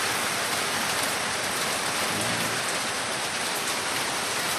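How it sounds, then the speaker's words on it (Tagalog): Steady, dense rain hisses without a break, a heavy downpour falling evenly on surfaces close by, with no voices. "Simula pa kagabi magdamag pong umuulan."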